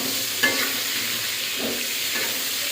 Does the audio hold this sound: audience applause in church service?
no